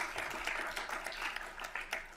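Audience applause at a community meeting, a brief patter of clapping heard at a distance, fairly faint and steady for a couple of seconds.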